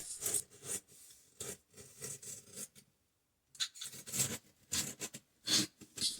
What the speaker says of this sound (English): You are cutting between the gap of the baseboard and the tile flooring.